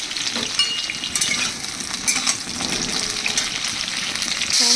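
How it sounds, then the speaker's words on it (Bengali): Pointed gourd (potol) pieces frying in a little hot oil, a loud, steady crackling sizzle with occasional stirring scrapes, close up and without voices. "পটলগুলো ভাজা হয়ে যাচ্ছে।"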